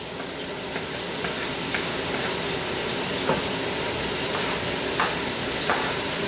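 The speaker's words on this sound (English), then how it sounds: "So I just add in the red and yellow and orange peppers along with my onions" Red, yellow and orange peppers with onions cooking in a frying pan for a hashbrown and sausage casserole, giving a steady close sizzle with a few light stirring clicks and scrapes throughout.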